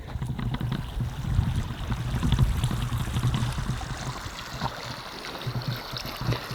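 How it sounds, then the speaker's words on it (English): Water pouring and splashing from a broken water pipe running through the Humboldt City ghost town, a steady nearby gush with low rumbling, continuous throughout with no talking. "That's where that water is coming from, that noise. It's another broken part of the pipe, the water pipe that runs through this ghost town."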